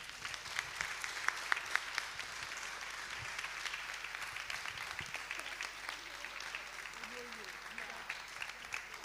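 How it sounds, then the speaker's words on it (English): A summit audience applauds while a speaker is welcomed to the stage. The clapping is steady and fairly distant, with a voice speaking over it. "Keep on clapping for her."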